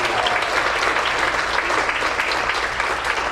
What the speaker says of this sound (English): I actually would like to give those guys a round of applause